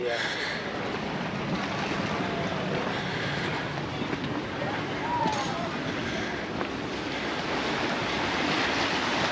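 Gentle surf washes steadily at the beach in Palmanova, Mallorca, a continuous broad hiss of small waves mixed with light wind buffeting on the microphone, with no distinct breaking crashes.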